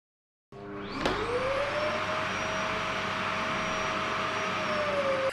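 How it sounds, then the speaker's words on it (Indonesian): A Samsung vacuum cleaner switches on and runs steadily, with a loud, close, continuous motor whine and airflow roar that holds at a constant pitch after the start-up. "Cleaning session yang tersedia juga membuat vacuum cleaner ini bisa dibersihkan secara otomatis"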